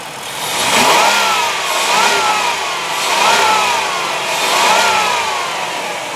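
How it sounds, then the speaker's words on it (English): A Chrysler 3.3 liter V6 in a 2005 Town & Country minivan is revved three times in steady succession, each rise and fall in engine pitch clear and close, with no talking over it. "Let me rev it up for you."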